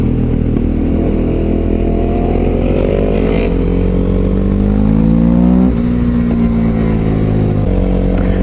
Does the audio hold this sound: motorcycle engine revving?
yes